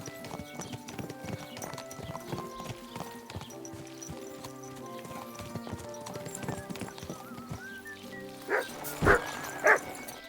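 Horse hooves clip-clopping in Kingdom Come Deliverance 2, a steady run of hoof clops under game music, with the horse snorting and whinnying loudly near the end.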